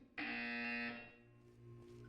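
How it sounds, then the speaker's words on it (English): A buzzer in the video game Portal 2 sounds once, a loud steady electronic tone that holds for under a second and then drops to a quieter lingering hum. "You will hear a buzzer. When you hear the buzzer, look up at the ceiling."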